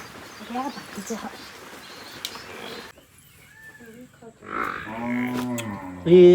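A buffalo lets out a deep, drawn-out moo close by, following a stretch of outdoor background noise with faint voices.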